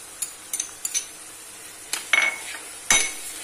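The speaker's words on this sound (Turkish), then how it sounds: "Şimdi bunun içerisine salçamızı atacağım." A spoon stirs tomato paste into minced meat and onions frying in a pan, with scattered light scrapes and clinks of utensil against the pan over a soft, steady sizzle.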